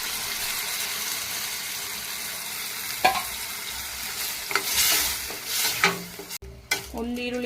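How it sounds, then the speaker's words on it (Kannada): Capsicum and potato fry in oil with tomato puree in a pan, giving a steady sizzle broken by a few close scraping stirs and clinks from a spatula. "ಕ್ಯಾಪ್ಸಿಕಮ್ಮು ಮತ್ತು ಆಲೂಗಡ್ಡೆ ಸ್ವಲ್ಪ ಫ್ರೈ ಮಾಡ್ಕೊಳ್ಳೋಣ ಎಣ್ಣೆಲಿ."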